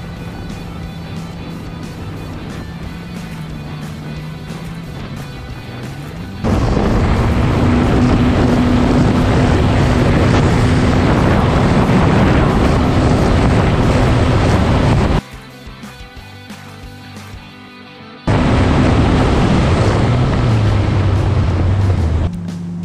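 A 2021 Yamaha FX Cruiser SVHO personal watercraft engine runs at speed with a steady loud drone, rising to a harsher roar mixed with wind and water rush, dropping briefly to a lower idle hum before surging again.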